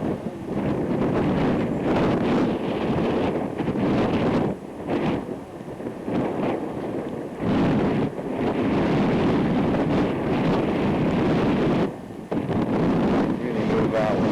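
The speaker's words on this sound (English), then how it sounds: "It's a windy day." Wind gusting against the microphone on a windy day by open water where windsurfers are out, a loud, continuous buffeting roar that surges and dips, with brief lulls around four and twelve seconds.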